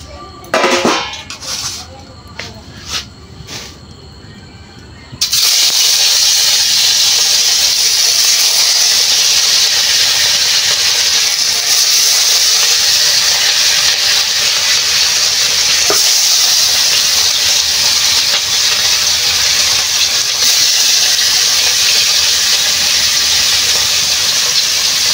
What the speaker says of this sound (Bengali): মাছটাই ভাজি, তেল গরম হয়ে গেছে।